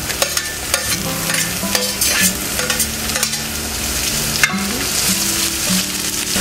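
Onions frying in a pan for kappa biryani, a steady close sizzle with scattered clinks and scrapes of stirring throughout, no voices.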